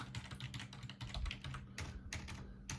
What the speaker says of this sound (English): I'm really good at typing reverberating.